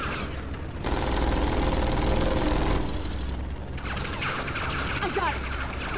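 Turret gunfire in the video game Tales from the Borderlands comes as loud, sustained bursts of rapid shots, with a brief gap and then more firing and mechanical clatter.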